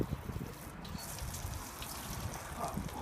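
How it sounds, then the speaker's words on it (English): Water rinsing out a cassette toilet, a steady soft gushing and trickling of liquid splashing inside the plastic tank, moderately quiet and continuous throughout. "give it a good rinse until it's clear"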